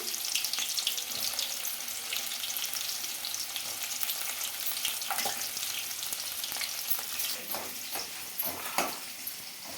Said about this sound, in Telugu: కట్ చేసి తెచ్చుకున్న ఆనియన్స్ అయితే వేస్తున్నాను